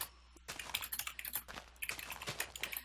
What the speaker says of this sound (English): That is some furious typing going on right now.